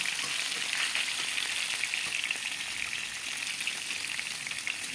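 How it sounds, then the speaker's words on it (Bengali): Katla fish pieces frying in hot oil in a wok, with a dense, steady crackling sizzle that stays loud and close for the whole stretch, with no voices. "যতগুলো মাছ আমরা রান্না করব ততগুলো মাছ কড়াইতে দিয়ে দিয়েছি এবং হালকা করে ভেজে নেব"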